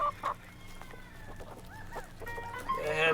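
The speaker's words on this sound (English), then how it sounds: "The hens love it." Hens cluck close by on a farm during daily chores, short irregular clucks and squawks over a low background hum, growing busier toward the end.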